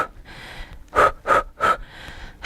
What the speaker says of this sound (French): Qu'est-ce que je suis essoufflée?